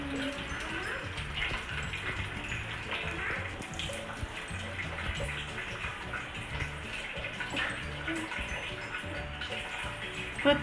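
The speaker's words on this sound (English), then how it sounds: "We will wash the water bottles." Water runs from a tap in a home in India as bottles are washed, a steady rushing stream with some splashing that continues without a break from start to finish. A voice may be faintly present in the background.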